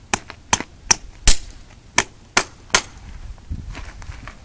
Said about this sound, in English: You can see as I drive the nail, you can watch it come through the hoof.